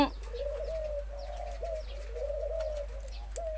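A spotted dove coos in a soft, repeated rolling call, fairly close and alone against quiet background, with a brief chirp near the end.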